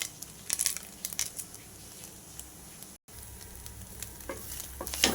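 Coconut chutney mixture for rice fries in a pan with a steady crackling sizzle, broken by close scraping stirs and a few louder crackles, with one brief dropout midway.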